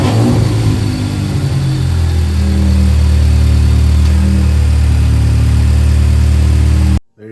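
A car engine runs steadily at a loud, close idle right after its spark plugs were changed, with a low rumble and slight revving that continues evenly before cutting off abruptly near the end.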